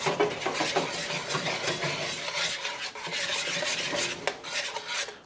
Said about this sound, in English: Stir this up, turn my heat off.